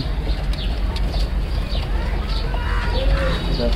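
Pigeons of many mixed breeds in a crowded loft give low coos over a steady bed of rustling, wing movement and background noise, with no clear voices.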